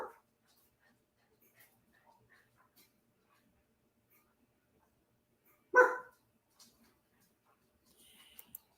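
A single dog gives one short, loud bark partway through an otherwise quiet room, with faint rustles and small noises around it.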